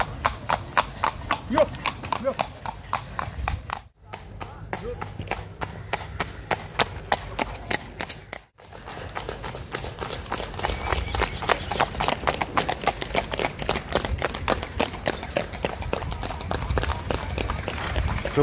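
Horses pulling traps clip-clop along a road at Appleby Horse Fair, with steady overlapping hoofbeats passing close by, brief breaks in the sound, then a denser run of hooves; crowd noise and voices sit underneath.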